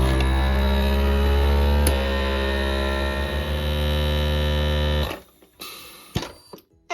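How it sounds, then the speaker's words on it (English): A vacuum sealer machine pumps the air out of a jar through an accessory port, giving a loud, steady, close motor hum that shuts off abruptly after about five seconds, followed by a few faint clicks and handling knocks. "Then turn on your machine and hit accessory."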